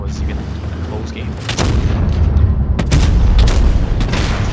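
Tank cannon shots in World of Tanks Blitz, featuring the Foch 155 and Maus: several sharp booming blasts in quick succession over a low rumbling game background, loud and close.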